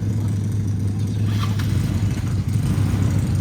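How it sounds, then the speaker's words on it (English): A small motorbike engine idles steadily and close by, a low constant hum with no clear start-up crank, under faint background noise. "let's start up your bike"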